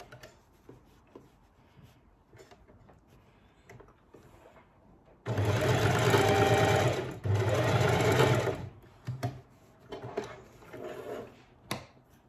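A sewing machine restitching a seam on small dog clothing runs in two loud close bursts of rapid whirring stitching, separated by a brief pause, with quiet handling noises before and after.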